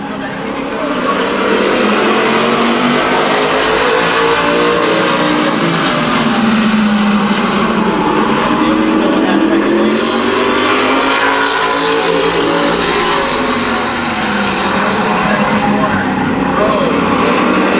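Race cars roar around the oval at Midvale Speedway, a loud, continuous engine drone with rising and falling passes, with an announcer's voice over it the whole time.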